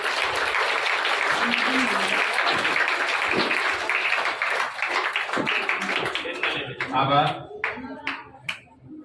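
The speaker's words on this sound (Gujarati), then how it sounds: "આપણે તાળીઓ પાડશું" A school audience at an admission festival breaks into sustained applause, dense clapping that holds steady for several seconds, then thins into scattered separate claps before fading.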